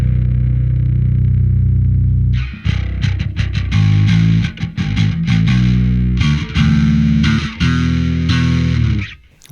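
A bass guitar runs through the Darkglass Anagram's Glass Drive distortion block: a held, gritty chord gives way to a run of choppy picked notes with a thick, saturated tone, loud and upfront.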